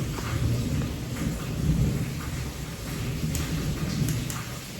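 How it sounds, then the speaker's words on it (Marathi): Heavy afternoon downpour with thunder in Karnataka on Bendur festival day, a dense steady roar of rain and deep rolling rumbles, close and continuous, with no talk. "आणि अचानक इतका जोराचा पाऊस व्हायला लागला"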